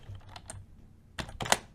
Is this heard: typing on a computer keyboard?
yes